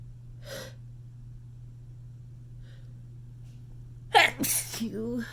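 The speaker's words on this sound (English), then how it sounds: "I'm gonna sneeze again." A woman with a cold lets out a breathy build-up and then a sudden loud sneeze near the end, with quiet breaths and a steady electrical hum in a quiet room beforehand.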